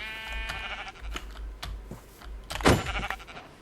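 Sheep in the Minecraft video game let out a short bleat, with keyboard clicks and game sounds scattered around it and no one talking.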